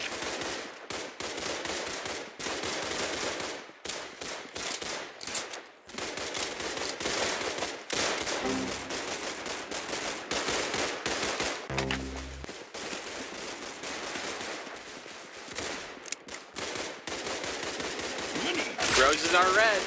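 Roblox Arsenal gameplay with rapid gunfire, dense bursts of shots recurring throughout, loud and near, with brief pauses and a voice talking at times over the action.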